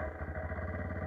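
A Kawasaki KLX230 dual sport motorcycle engine runs steadily, a close, even single-cylinder putter with a fast regular pulse and no other sounds.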